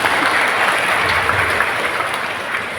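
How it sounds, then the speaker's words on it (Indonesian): A church congregation applauds during a Sunday service, a steady, dense wash of clapping that holds at an even level throughout without pause. "Tepuk tangan juga untuk dia."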